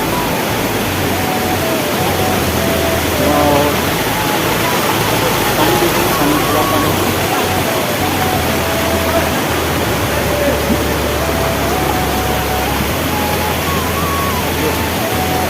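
Rushing water from the Langmuku waterfall in Karbi Anglong pours in a dense, continuous roar close by, with a speaker's voice faintly over the steady wash.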